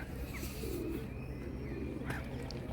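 Seagulls call over steady outdoor noise in a park, a few short cries rising above a constant background hum, fairly distant.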